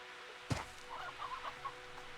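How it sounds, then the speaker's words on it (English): Chickens clucking in the farming game Slime Rancher 2, a short burst of sharp squawk followed by a few softer, scattered clucks at moderate distance, alone with no talk. "Hearing the chickens."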